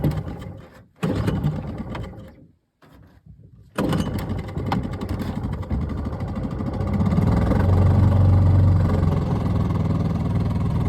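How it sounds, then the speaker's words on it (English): An outboard motor mounted on the square stern of a canoe sputters through brief starting attempts, goes quiet for a moment, then catches and runs with a loud, steady buzzing drone that climbs slightly as the throttle opens. "After it was safely secured, EJ fired the motor to life."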